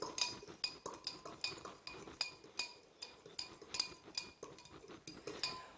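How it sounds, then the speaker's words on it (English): A spoon stirs stock into vegetable soup in a cooking pot, tapping and clinking against the metal in a steady, close rhythm of sharp knocks roughly every half second. "I always give it a bit of a stir, just to make sure it's fully dissolved"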